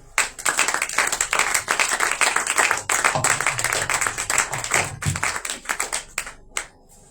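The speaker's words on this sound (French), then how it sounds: "Sous vos acclamations, s'il vous plaît" A crowd at a Passover celebration event claps vigorously in a loud, close burst of hand claps that holds for several seconds before tapering off into a quieter tail.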